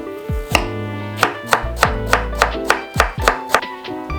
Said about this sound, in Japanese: 人参は千切りに。